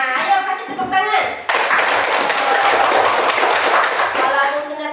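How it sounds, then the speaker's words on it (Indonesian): Schoolchildren in an elementary classroom burst into loud, dense hand clapping that continues steadily to the end, after a brief stretch of children's voices and scattered claps at the start. "ayo kasih tepuk tangan"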